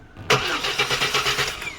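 A Chevy S10 / GMC Sonoma 4.3L engine cranks loudly with a fast, even chugging rhythm of the starter turning it over, close up and without firing.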